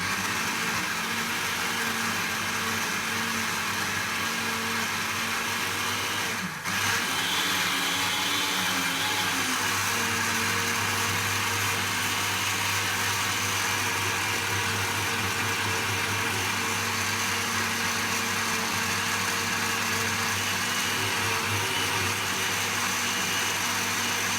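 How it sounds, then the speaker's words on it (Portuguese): An electric blender mixing carrot cake batter with whole carrots, a loud, steady motor whir running continuously at close range with one brief knock partway through. "Bate tudo isso até a cenoura se dissolver bem e tá feito."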